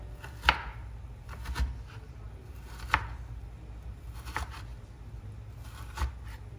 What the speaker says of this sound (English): I just cut it into about 1/2 inch slices.